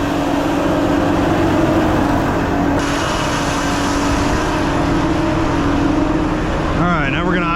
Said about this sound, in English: Now we're going to go ahead and idle this thing up.